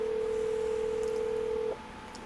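A single steady telephone tone sounds for nearly two seconds and then cuts off, leaving faint room noise and a couple of tiny clicks as the phone call is placed.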